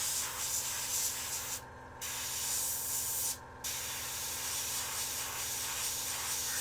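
A Meeden 0.5mm airbrush sprays paint in a steady, close hiss that runs almost the whole time, with two brief pauses where the trigger is released.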